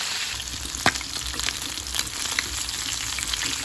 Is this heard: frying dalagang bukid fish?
yes